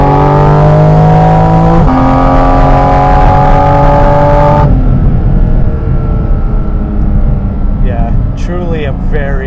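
A Porsche Cayman GT4 RS in its sportiest mode with PDK Sport and sport exhaust accelerates hard, its engine wailing higher through stepped gear changes, loud and close inside the cabin, then settling into a lower drone as a voice speaks.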